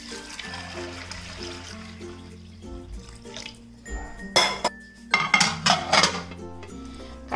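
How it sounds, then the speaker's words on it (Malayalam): White chickpeas being washed in a bowl of water, with splashing, sloshing and clinks of the bowl and utensils, quiet at first, then busier bursts of swirling water. "ഇത് നന്നായിട്ടൊന്ന് കഴുകിയിട്ട് കുറച്ചധികം വെള്ളം ഒഴിച്ച്"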